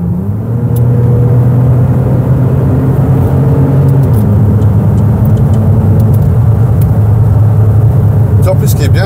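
An Opel Insignia OPC Line with a 300 hp stage 1 tuned V6 turbo engine drives on the road, a loud steady in-cabin engine drone and road rumble rising slightly, while people talk over it.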